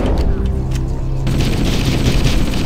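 Assault rifle fire in the video game Halo CE, a loud, continuous spray of automatic gunfire sustained through the whole stretch with a dense rattling texture.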